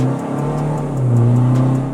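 A Hyundai Verna 1.6 with a stage 1 remap and straight pipe accelerates hard from a roll, its engine note loud and close, droning and rising steadily in pitch over two seconds.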